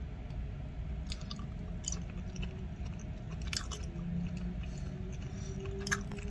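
Someone chews food close to the mic while eating during a trip, with soft, repeated crunching and squishy bites over a continuous low rumble of background noise.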